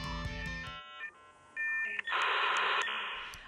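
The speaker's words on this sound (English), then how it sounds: "Anyone who used the internet in the early 2000s knows the sound of dial-up." Dial-up internet modem connecting, with a run of dialing tones and beeps giving way to a loud burst of harsh screeching handshake noise, close and alone.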